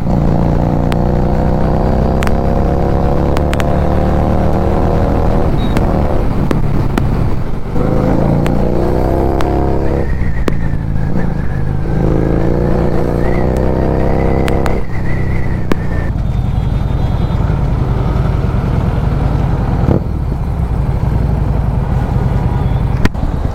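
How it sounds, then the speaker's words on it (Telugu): Harley-Davidson Street 750 motorcycle engine roaring loudly and steadily while accelerating at high speed on a road, rising through gear changes with wind noise, close and continuous throughout. "బైక్ అంతా గేర్ మార్చి యాక్సిలేటర్ ఇస్తుంటే ఒక సైడ్కి ఇట్లా పుల్ చేసి ఇట్లా మళ్ళీ సెంటరింగ్ వేసుకుంటుంది"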